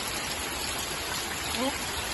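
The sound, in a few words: rain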